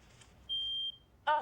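A Google Nest Protect smoke detector gives a single clear, steady electronic beep of under half a second in a quiet room, followed by a brief voice.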